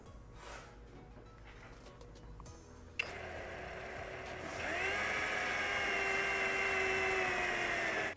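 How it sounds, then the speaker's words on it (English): A high, whining drill spins up, then runs steadily and grows louder as it bites through the metal body of a 2022+ Subaru WRX, with faint clicks and handling noise beforehand. "we're going to go ahead and make our first pilot holes on each one of our crosshatches"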